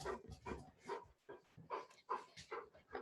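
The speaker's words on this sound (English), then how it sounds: "That's our dog panting in the background." A dog pants quickly and rhythmically nearby, short breathy huffs repeating with a few faint whines mixed in.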